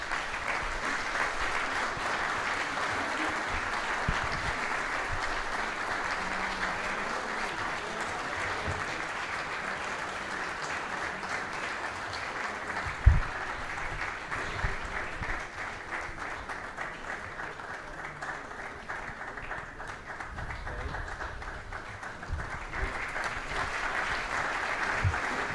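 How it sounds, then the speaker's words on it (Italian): An indoor audience gives a choir long, sustained applause at a commemorative event, steady clapping from a sizable crowd that holds for the whole stretch, with one sharper clap standing out midway. "ovviamente tributiamo un applauso al coro."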